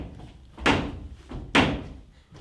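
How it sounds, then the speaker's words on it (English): Two heavy, resonant knocks on a door, spaced about a second apart, sound as a stage effect in a Macbeth production, each a booming thud that decays slowly in a quiet hall. "Whence is that knocking?"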